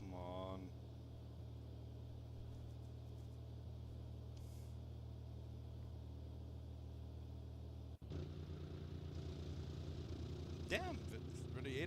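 Steady car engine drone in the BeamNG driving game, a continuous low hum with a sharp shift partway through as the engine note changes and revs, under a speaking voice.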